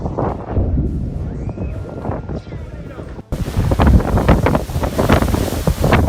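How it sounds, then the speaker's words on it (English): Typhoon Mangkhut batters the Hong Kong shoreline with roaring gusts buffeting the microphone and heavy ocean surf crashing, loud and turbulent, with a sudden jump to an even rougher roar partway through. "Typhoon Mangkhut roared through Hong Kong, sending ocean waves towering like walls of water, crashing into homes"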